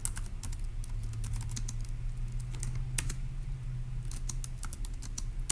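Rapid clicking keystrokes on a computer keyboard as a logic puzzle answer is entered, an uneven burst of taps over a steady low hum, fairly close and with no talking.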